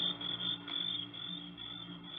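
Crickets shrill loudly and continuously at night as a sound effect in a 1950 radio drama, a dense, high, pulsing chorus with no speech over it.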